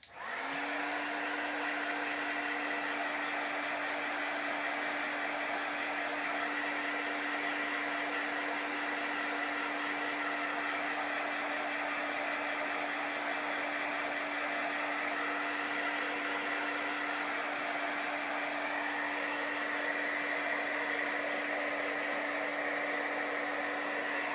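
A handheld dryer blows steadily to dry chalk paste on a transfer, a loud, constant whirring hum with a fixed motor whine that runs unbroken throughout with no talking.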